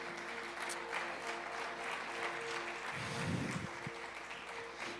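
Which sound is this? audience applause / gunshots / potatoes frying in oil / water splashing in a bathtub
audience applause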